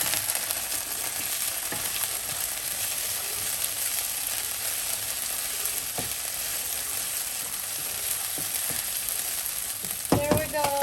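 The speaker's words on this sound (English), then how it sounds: "And I'm going to add my cashews and stir this for 30 seconds" Cashews fry with ginger garlic paste in hot oil for paneer tikka masala, a constant loud sizzle with a few utensil scrapes and a clatter of stirring near the end, no voices.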